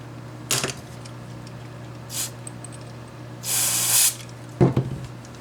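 Contact cleaner sprays from an aerosol can during repair of a K7500 monitor chassis: four hissing bursts, close and fairly loud. The third burst is the longest and the others are short.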